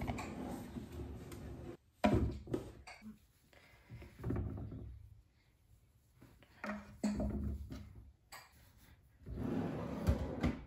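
A kitchen drawer is handled in a quiet home, giving several soft wooden slides and knocks scattered between pauses, close by and fairly faint.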